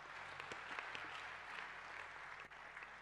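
A church congregation claps and cheers in praise of Jesus Christ, a continuous, somewhat distant wash of applause with scattered sharper claps throughout.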